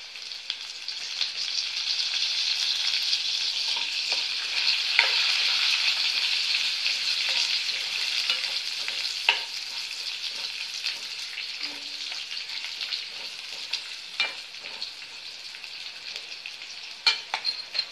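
Curry leaves crackle in hot oil, a steady frying hiss with scattered sharp pops and occasional stirring scrapes, close and unbroken by speech for the whole stretch.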